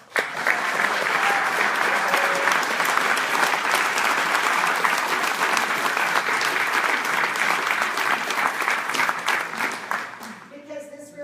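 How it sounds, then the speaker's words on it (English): A town hall audience in Pittsburgh breaks into sustained applause, loud and dense clapping from a large crowd that holds steady for about ten seconds before fading, with faint voices emerging at the end. "So give yourselves a round of applause."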